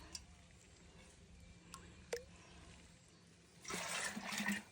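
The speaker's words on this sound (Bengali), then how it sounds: "তারপরে হচ্ছে খাবারের পানিটা নিচ্ছি" Drinking water being drawn from a freshly cleaned well, heard as a splashing, pouring rush of water that starts late and stays fairly close, after a few faint knocks and clicks.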